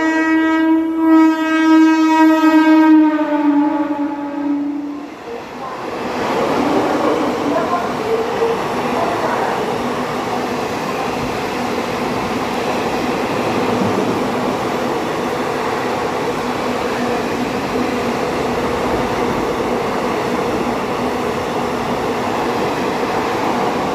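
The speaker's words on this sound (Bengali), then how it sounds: "4 नंबर प्लेटफॉर्म से ट्रेन गुजरी" A train passes loudly through platform 4 of a station on the Jaynagar–Sealdah line, a sustained horn opening before a steady, continuous rumble of wheels and carriages rolling by close at hand.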